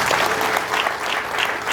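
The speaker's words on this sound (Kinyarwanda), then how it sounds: "tumukomere amashyi menshi" Wedding party guests clapping together, a dense, loud, sustained burst of applause close by with no pause.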